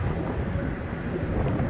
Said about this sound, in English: Got super windy.